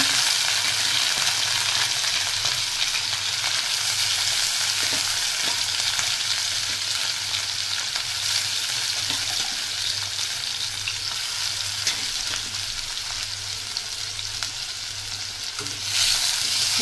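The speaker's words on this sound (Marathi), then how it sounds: "याच्यामध्ये मी आता हे सगळं चिकन घालून फ्राय करून घेणार आहे" Chicken pieces frying in oil in a pan over a low gas flame for a chicken masala, a steady loud sizzle with occasional stirring scrapes, no talking.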